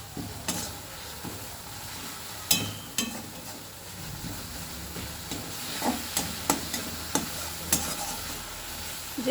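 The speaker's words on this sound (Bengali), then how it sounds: "মশলাটাকে খুব ভালো করে কষিয়ে নিতে হবে।" A spice paste for kalo jeere fish sautés and is stirred in a pan, giving a continuous low sizzle broken by repeated sharp scrapes and clinks of the spoon against metal.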